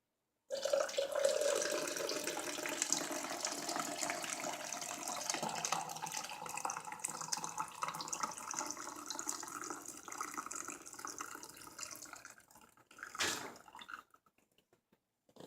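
Coffee pours steadily into a cup, a continuous splashing stream that gradually fills and thins, ending with a few final drips.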